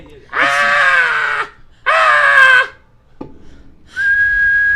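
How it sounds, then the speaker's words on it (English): Three high, sustained whistled notes, the first two long and wavering, then a shorter steady tone after a faint click, loud and close. "I can whistle"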